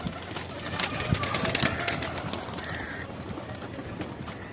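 Racer pigeons coo and chirp softly on a rooftop with a few wing flaps and scuffles, while a person talks faintly nearby.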